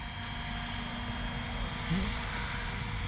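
An SAB Goblin RAW 700 RC helicopter flies circuits, its steady engine and rotor drone running continuously at moderate distance, with no talk.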